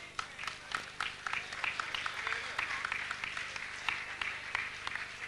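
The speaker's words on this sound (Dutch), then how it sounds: "Een graag applaus voor deze 3 lui." Audience applause at a 2002 carnival song contest in Sittard, with dense clapping from a crowd, steady and moderately loud, running the whole time with sharper individual claps standing out.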